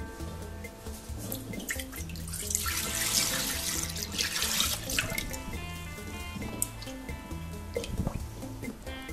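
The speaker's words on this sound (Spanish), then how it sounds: "Introducimos dentro del vaso los ingredientes líquidos, como son la leche y la nata." Milk and cream pour into the bowl of a Monsieur Cuisine Plus kitchen machine, a continuous splashing, gurgling liquid stream up close that swells in the middle and tapers off with a few drips, with no voices.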